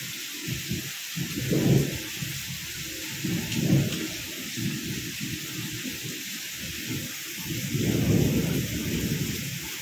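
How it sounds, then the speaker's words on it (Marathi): Heavy rain falls in a steady wash during a thunderstorm, with deep rolling thunder swelling several times, loudest near the start and again toward the end. "इतकी भयंकर वीज कडाडली ना"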